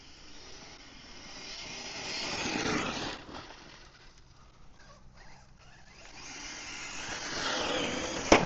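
An Arrma RC short course truck makes high-speed passes, its electric whine swelling loudly as it nears, fading as it pulls away, then building again for a second pass.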